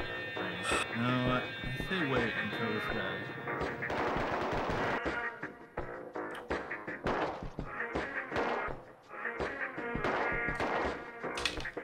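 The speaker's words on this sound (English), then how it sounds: "Finally figured out the tap fire." Short tap-fired gunshots from a rifle in the video game Rust ring out in a loud, rapid series of separate bursts, layered over game noise while players talk throughout.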